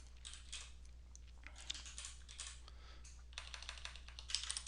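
Quiet keyboard typing of programming code, with irregular bursts of soft keystrokes over a steady low hum.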